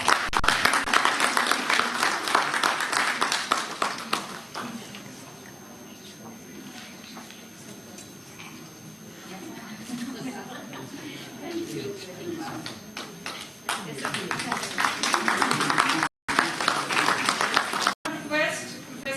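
A university audience applauding a guest of honour, with dense clapping at first that thins into scattered claps under a speaking voice and room noise.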